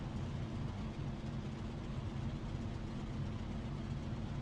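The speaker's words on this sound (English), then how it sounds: "Can you hear the engine ticking over?" An aircraft engine idles in the DCS flight simulator game, a steady, dense low rumble with constant level and no change in pitch, heard on its own throughout.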